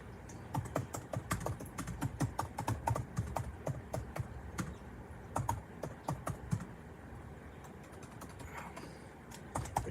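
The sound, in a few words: typing on a computer keyboard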